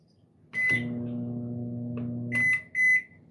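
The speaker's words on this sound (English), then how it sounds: "Now my microwave's really fast." A new microwave oven hums steadily at close range, with sharp electronic beeps at the start and a couple more beeps near the end.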